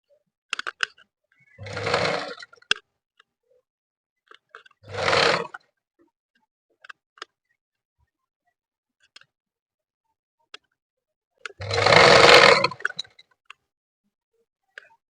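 Short bursts of a sewing machine stitching blouse cloth, three separate runs of a second or so each, with quiet pauses and small handling clicks in between.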